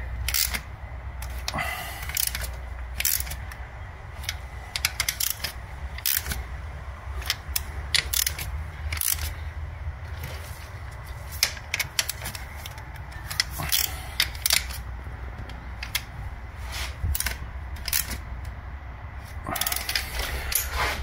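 Bolt being fitted and hand-tightened on a Lexus IS250 engine during injector and valve cover work, with close, irregular ratcheting clicks and small metallic mechanism sounds, some sharp taps among them, in a quiet workshop.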